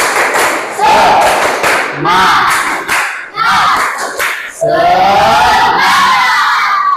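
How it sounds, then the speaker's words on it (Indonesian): A classroom group performs a rhythmic spirit clap, bursts of unison claps and shouted chant in patterned phrases, loud and close, with voices calling out between the clap sequences. "kita tepuk semangat dulu"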